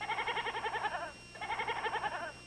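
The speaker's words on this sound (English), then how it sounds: "Joe, get that goat out of here" A goat bleats in two long, wavering, vibrato-like cries separated by a brief pause, heard fairly close and alone.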